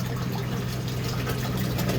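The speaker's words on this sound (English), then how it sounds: "and here is the pump." An aquaponics water pump lifts water from a sump up to a fish tank, giving a steady, close, even hum with a watery rush over it that does not vary.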